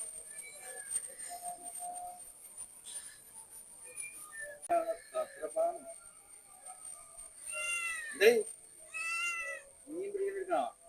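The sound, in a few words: cat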